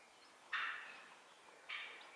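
Two short raspy bird calls, a second apart, from a turkey hen at moderate distance, each trailing off quickly over a faint quiet background.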